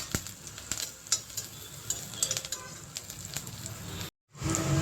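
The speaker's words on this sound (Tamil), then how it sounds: "நல்லா வதக்கலாம். வெங்காயம் லைட்டாக கலர் சேஞ்ச் ஆகிற வரைக்கும்" Onions sauté in a pan for chicken pepper fry, a steady close sizzle and crackle with occasional stirring clinks, running continuously until a brief cut near the end.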